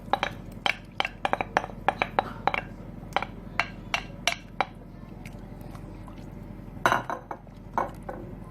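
A spoon scrapes and clinks against a pot while flour is stirred into a sauce for Tunisian hsou, with irregular metallic taps and knocks over soft wet swishing, close and alone.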